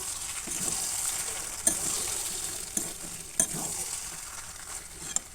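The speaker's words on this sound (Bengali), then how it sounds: "একটু নাড়াচাড়া করে নিলাম আমার আলু কুমড়োর তরকারি হয়ে এসছে" A potato, eggplant and pumpkin curry is stirred in a pan, giving a soft continuous sizzle with several sharp spoon scrapes and clinks against the pan.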